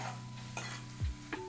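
Sautéing in a pan with salt added, a quiet sizzle with a few distinct spoon scrapes and knocks against the pan as it is stirred.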